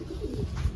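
A pigeon lands and coos outdoors, giving a short, low, muffled call over steady wind and background rumble.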